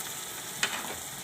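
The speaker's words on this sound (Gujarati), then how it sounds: "હવે આપણે આ કાજુ નાખી દેવું, એને આપણે ઘડીક તેલમાં સડવા દેવાના છે" Cashews fry in hot oil for a potato and cashew curry, giving a soft, faint sizzle with one brief crackle, and no voices.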